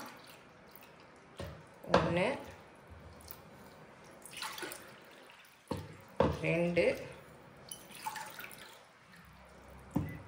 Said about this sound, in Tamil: இதில் ஒரு 3 டம்ளர் தண்ணி ஊற்றி கரைச்சிக்கலாம்.